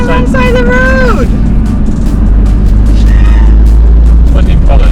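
A car drives past on a road with a heavy low engine rumble that swells and holds, loud and near, while a voice exclaims over it and a bird or squealing tone chirps early on.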